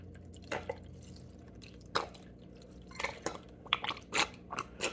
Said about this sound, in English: Gonna let that residual water drain out.